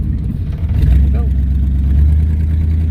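Engine of a 1969 Mustang left sitting in the rain for 21 years, accelerating in second gear, a loud deep steady drone that rises slightly, heard from inside the car.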